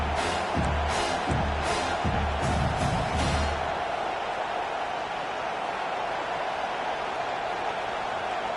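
Stadium crowd noise in a college football video game, a broad steady roar with a few louder surges of cheering early on during a third-down defensive stand.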